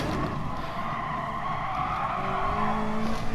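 A Gr.3 Ferrari race car in GT Sport brakes hard at Dragon Trail, its tires squealing and skidding over a steady loud engine roar, with a rising squeal tone near the end.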